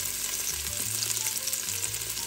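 Ginger sautéing in a hot pan as the base for a seafood soup, a loud, continuous close sizzle with occasional stirring clinks and no talking.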